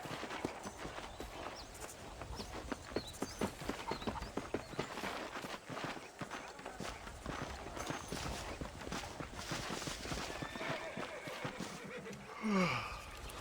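Horse hooves clip-clop at a steady walking rhythm in Red Dead Redemption, clear and close. A horse whinnies briefly near the end.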